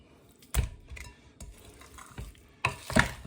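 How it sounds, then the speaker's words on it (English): Pork pieces stirred in satay marinade in a bowl, wet squelching scrapes in a few separate strokes, close and moderately loud, with no talking. "Right, I'll carry on mixing."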